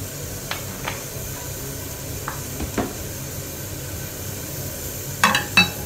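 A little oil heats in a pan before shallow frying cauliflower. A faint, steady hiss is broken by scattered light clicks and taps, then a few louder clatters near the end. No one speaks.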